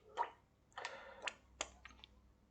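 Watercolour brush swishing and dabbing as paint is mixed in a palette, several short soft wet strokes and taps in a quiet room, close and faint, no talking.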